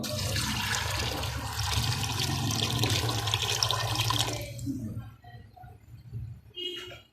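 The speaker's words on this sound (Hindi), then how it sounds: "नाल ही कुछ पानी ऐड होएगा" Water poured from a tap or jug into a cooking pot of kale chane (black chickpeas) with salt before pressure steaming, a steady close rush for about four seconds that cuts off, followed by faint dribbles and small clinks.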